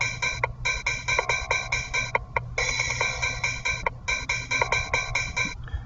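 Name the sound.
boo bass pattern played in FL Studio step sequencer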